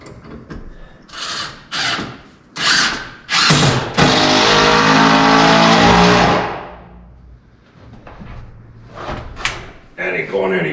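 A power drill drives a 4.5 inch screw into a wooden office desk in one loud, sustained whirring burst of about two seconds, framed by scattered knocks, bumps and handling noises.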